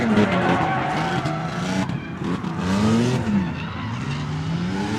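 A supercharged Z drift car slides through a drift competition run with continuous loud tire squeal and engine roar, the pitch sweeping up and down as it swings around the course.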